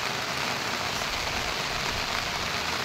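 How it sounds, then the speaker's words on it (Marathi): Heavy rain pours down in the Konkan countryside, a dense, even hiss of drops drumming on surfaces, loud and unbroken with no voices. "छान पाऊस पडतोय, छान."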